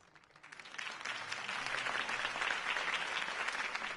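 Sustained crowd applause swells after a quiet start and holds steady, dense clapping from many hands filling the space.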